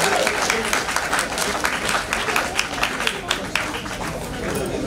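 Crowd applause at a wedding ceremony for couples with disabilities, dense steady clapping from many hands filling the space with light chatter underneath.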